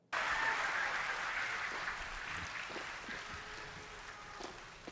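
A crowd cheers in a video game, a steady broad roar of voices and applause that starts abruptly and slowly fades over a few seconds.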